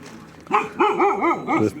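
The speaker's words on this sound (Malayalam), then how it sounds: "താഴെ ധാബ അവിടെ ഒരു നായി അവൻ കുറച്ചുകൊണ്ടിരിക്കുന്നു" A dog barks near a roadside dhaba in Hyderabad, a quick run of four or five close, loud yelping barks.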